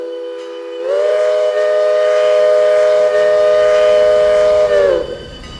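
A steam locomotive whistle in the Railroader video game blows one long, loud, steady chord for a road crossing, starting abruptly and cutting off after about four seconds with faint rumble around it.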